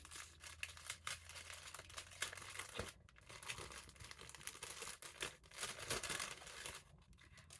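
Crinkly paper wrapping on a sewing-themed advent calendar package being torn open and crumpled, a close, continuous rustle with sharp tearing bursts throughout.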